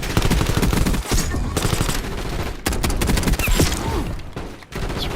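Rapid automatic gunfire in a Call of Duty match, loud close bursts of machine-gun fire with brief gaps between volleys, dense and continuous across the stretch.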